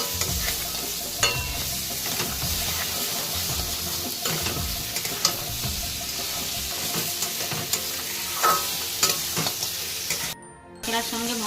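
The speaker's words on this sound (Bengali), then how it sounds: "কাঁকড়াটার সঙ্গে আমি মশলাটা ভালোভাবে মিশিয়ে নেব।" Fried crab being stirred into a thick masala in a pan, with a steady sizzle and repeated scraping of a spatula throughout, close and fairly loud, cutting out briefly near the end.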